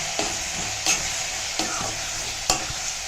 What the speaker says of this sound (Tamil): நான் கட் பண்ணி வச்சுருக்கிற நார்த்தங்காயை அதில் சேர்த்துக்கலாம். சாரோடு தான் சேர்த்துக்கணும். சேர்த்து இது நல்லா சுருளாக வதக்கிக்கலாம்.